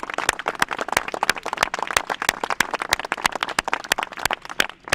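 Sustained clapping and applause from a gathered crowd honoring workers at the reopening of the White River Bridge, dense overlapping claps with sharp individual hand strikes standing out, steady and fairly loud throughout.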